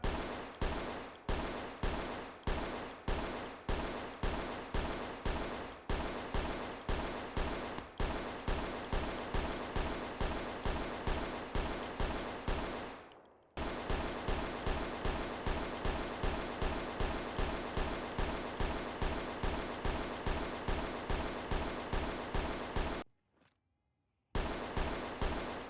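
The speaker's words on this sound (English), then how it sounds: "this one doesn't have a silencer, so it's gonna make a little bit of noise" Unsilenced gunfire in the video game Project Zomboid, a long run of loud, rapid single shots in steady rhythm, with two brief pauses, one short and one near the end, and no talking.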